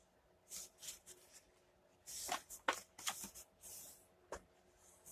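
A paper card is folded and creased by hand, giving short, close papery swishes and scrapes in a few bursts against a quiet room.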